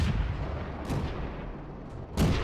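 T18 tank destroyer firing its gun in World of Tanks: two heavy booming shots a second or so apart, each with a sharp crack and a rumbling tail, over steady low battlefield rumble.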